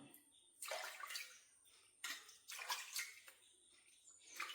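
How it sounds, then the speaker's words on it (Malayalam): Water splashes softly while a face is washed at a basin, in three short bursts of splashing and dripping that rise and fall over a quiet background, with no talking. "ഇനി നമുക്ക് നമ്മുടെ ഫേസ് ഒന്ന് കഴുകാം"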